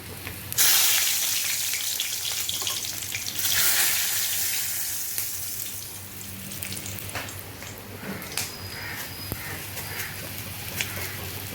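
Chilies hit hot oil in a pan at the start of a ridge gourd and potato curry, setting off a loud, bright sizzle. The hiss is steady, eases a little, and carries occasional crackles and pops.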